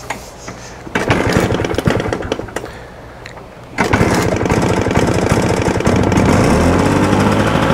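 A vintage kickstarted motorcycle engine catches and runs, a loud, close, rough, rapidly pulsing beat that drops briefly, then surges back and holds a steady, hard-revving throb.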